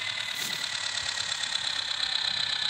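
Engine of a fully red Kubota tractor in an Android tractor-driving video game, a steady mid-pitched idling drone with a faint knocking pulse running continuously, no voices.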